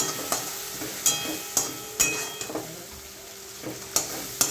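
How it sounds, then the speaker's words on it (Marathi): Thecha frying with turmeric in a pan, a steady sizzle under a repeated spoon scrape and tap roughly every second, close and moderately loud, with no voices. "त्याच्यात थोडीशी मी हळद घालणार आहे आणि हे पण असं मस्त छान असं फ्राय करून घ्यायचं आहे आपल्याला"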